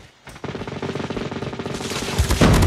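Rapid bursts of dual machine pistol fire in Call of Duty Mobile, a dense rattling stream of shots that runs close and loud for nearly the whole stretch and grows heavier toward the end.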